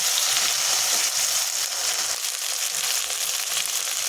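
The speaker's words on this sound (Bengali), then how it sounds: "মশলাটা দিয়ে আমি ভালো করে নাড়াচাড়া করে নেব" Ground spice paste frying and being stirred in a pan for a pangas fish curry, a steady loud sizzle that runs unbroken throughout with faint scraping underneath.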